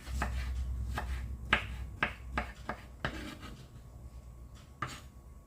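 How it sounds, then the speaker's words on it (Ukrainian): A knife chops a pear into small pieces on a cutting board in a series of quick, uneven taps, fairly close and quiet, with brief pauses between cuts. "і нарізаю на дрібненькі-дрібненькі шматочки."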